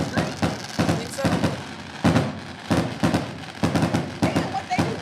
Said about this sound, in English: Are you sure that's fireworks?